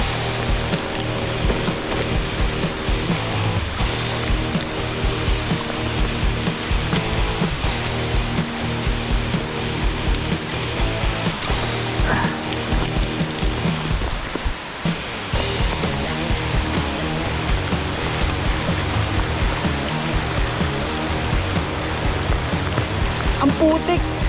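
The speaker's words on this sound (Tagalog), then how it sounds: "Lumakas pa ang ulan." Heavy rain pours steadily on a mountain trail, a dense, loud, continuous wash of drops and running water that stays unbroken throughout, with faint voices mixed in.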